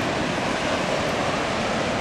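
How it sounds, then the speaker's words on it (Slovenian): Steady roar of surf from the Atlantic or Pacific Ocean along an Australian coast, a dense continuous wash of breaking waves mixed with wind noise, with no voices. "No, kaj je moč morja."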